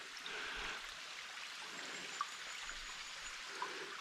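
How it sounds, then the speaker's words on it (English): Small waterfalls trickle through wet bush beside a brown, churned-up river, a steady faint wash of running water with a couple of tiny drips standing out, no voices. "There are a lot of little waterfalls"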